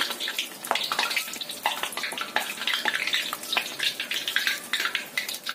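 Carrot and tofu fritters fry in hot oil in a wok, giving a close, continuous crackling sizzle with irregular louder spatters and pops throughout, and no voices.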